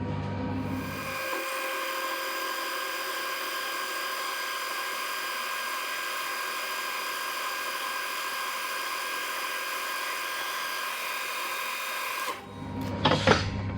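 A fly cutter in an ER32 holder with a 20mm shank takes a milling pass at one inch per minute, giving a steady, loud, even whine with a whirring hum that holds unbroken before stopping abruptly near the end.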